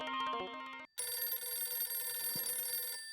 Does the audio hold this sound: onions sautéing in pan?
no